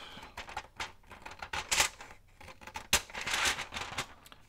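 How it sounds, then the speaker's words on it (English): Scissors trimming paper from an old greeting card for a journal page, a series of close crisp snips and paper rustles in an uneven rhythm, fairly quiet. "I'm going to trim this off."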